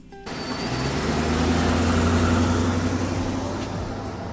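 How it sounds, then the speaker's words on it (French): Car engine arriving in a driveway: a steady, fairly loud motor rumble with a low hum that swells and holds, then eases slightly, with no voices. "vous entendez le bruit d'un moteur de voiture qui provient de l'allée"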